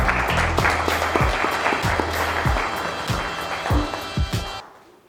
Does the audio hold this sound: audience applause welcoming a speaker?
yes